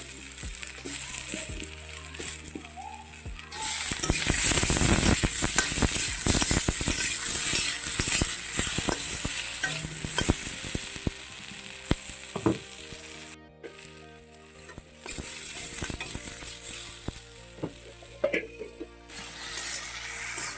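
Chopped tomatoes hit a pan of lightly fried onions and ginger, setting off a loud burst of sizzling that settles into steady frying with stirring clatter and scrapes.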